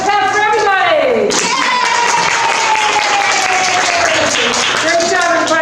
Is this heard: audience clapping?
yes